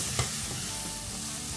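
Chopped leftover barbecue beef and linguiça sausage fry in a pan, giving a steady, close sizzle with a stirring scrape near the start, quiet overall and without any voices.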